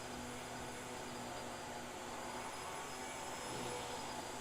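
Vacuum cleaner running in a room, a constant broadband roar with a faint steady whine, at moderate level with no speech over it.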